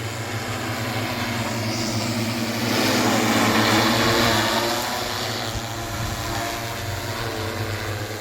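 Steady droning hum of an agricultural spraying drone flying nearby over a field, a constant motor whine that swells briefly louder as it passes, with no voices.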